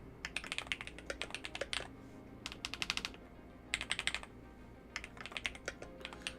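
Bursts of quick clicking keystrokes come from an Aula Hero84HE plastic mechanical keyboard with foam and silicone dampening, heard close but fairly quiet, with short pauses between the flurries of typing.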